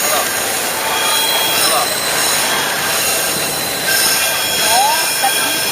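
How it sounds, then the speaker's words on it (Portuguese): Tourist train rounding a curve near Mariana in the Minas Gerais mining country, its wheels giving faint high squeals over steady outdoor rumble and wind, with people talking nearby. "Olha, ele vai pegar o trem ali, ó, fazendo a curva."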